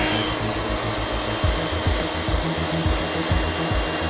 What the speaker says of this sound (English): Don't have the dryer too close to the hair.